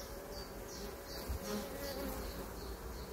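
A honeybee colony in an open hive, buzzing softly and continuously at close range, with a dense hum of many bees and a few individual bees whining past.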